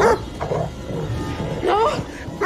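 A dog in The Devil in Me video game yelps and barks in several short, whiny bursts under ongoing talk from a player.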